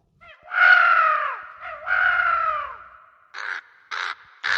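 Cartoon crow cawing in a Tamil animated show: two long, loud drawn-out caws followed by three short, sharp caws in quick succession, close and clear with no talking.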